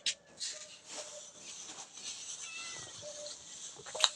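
A cat meows several times, thin, high cries close by over a faint background hiss, ending with a sharper yowl.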